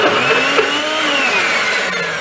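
A regular kitchen blender whirs loudly as it purees hummus, a steady, dense motor roar with a whining pitch that holds constant throughout, close and alone with no voices.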